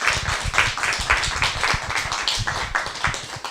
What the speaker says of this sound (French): Et je voudrais peut-être inviter tout le monde à vous applaudir très fortement.